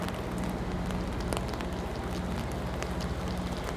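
Steady rain on a city street along Queen Street West in Toronto on a June evening, a constant hiss and patter of drops with faint scattered taps and a low background hum.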